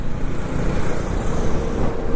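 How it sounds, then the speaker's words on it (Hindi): A motorcycle engine pulls steadily after a gear change, a dense, continuous low rumble that holds at a fairly loud level throughout with no voices over it. "वापस से देखिए मैंने गियर चेंज किया और एक्सीलेटर दिया, देखिए मेरी गाड़ी और आगे बढ़ रही है।"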